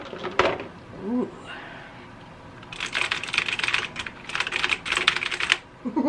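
Rapid mechanical clicks from a Razer BlackWidow gaming keyboard being tested, coming in dense bursts of fast typing, close and fairly loud, after a quieter stretch with a brief voice and rustling at the start.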